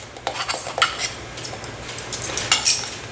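Whisk or utensil scraping and clinking briskly in a bowl as a dry flour and baking powder coating for deep-fried chicken nuggets is mixed, a quick irregular run of close metallic taps and stirs with no talking.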